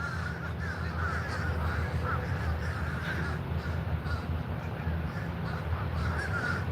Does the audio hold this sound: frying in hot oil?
no